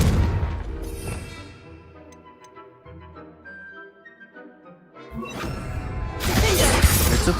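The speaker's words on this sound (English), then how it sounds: "Confringo" A Confringo blast spell goes off in a Harry Potter video game as a loud crashing explosion that swells and roars, with a quieter rumbling stretch between bursts of blast noise.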